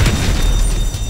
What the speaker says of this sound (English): Just blow it up!